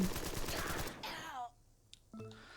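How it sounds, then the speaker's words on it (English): Burst of rapid machine gun fire in the crime strategy game Empire of Sin, a loud fusillade of close shots over about a second, followed by quieter game sounds and a short tonal chime. "Machine gun should be fine."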